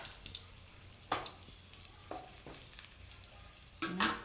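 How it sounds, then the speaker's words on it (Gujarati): Bay leaves and red chillies go into hot oil for a Gujarati corn and fenugreek dish, giving a quiet sizzle with a few sharp crackling bursts, one near the start and a louder one at the end. No one speaks. "એમાં આપણે આ તેજપત્તા અને લાલ મરચાં આ રીતે કાપીને નાખીશું."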